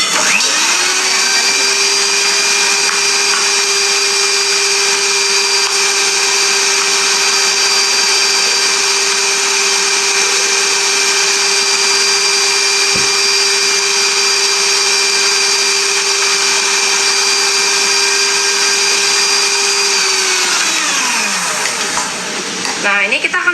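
Electric mixer running steadily on its lowest speed while flour is mixed into pandan sponge cake batter, a loud constant whirring hum that holds for about twenty seconds before winding down and stopping.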